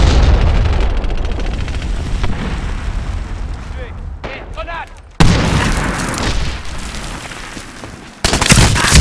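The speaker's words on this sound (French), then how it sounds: "Grenade." A grenade blast in the Medal of Honor Warfighter multiplayer match on the Hara Dunes map lands as loud, booming explosions amid constant battle noise, with a sharp burst near the middle and another near the end, while players talk over it.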